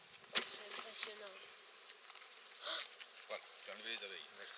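Honeybees on a hive frame at a teaching apiary, a faint buzzing with a few louder close passes, while people talk quietly nearby.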